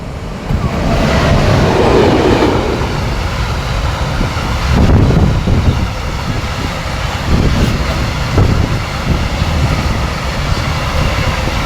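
A freight train passes close by on the rails, a loud continuous rumble and clatter of wagons with wind buffeting the microphone, no talking.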